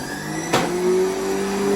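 An electric two-speed juicer switches on with a sharp click and then settles into a steady, close motor whine.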